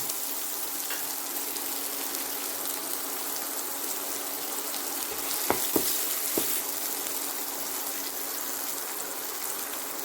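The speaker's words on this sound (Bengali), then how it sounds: "পেঁয়াজটাও খুব ভালো করে ভাজা হয়ে গেছে" Onion frying in a pan while cooking a Bengali raw banana peel paste dish, giving a steady, moderately loud sizzle throughout with a few brief crackles near the middle.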